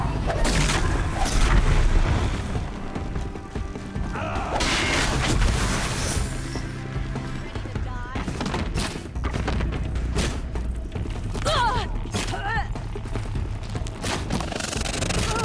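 Robotic machine creature attacking in Horizon Zero Dawn, heard as a dense, loud game battle mix of heavy booms, metallic clanks and whirring mechanisms with shots and impacts, continuous throughout.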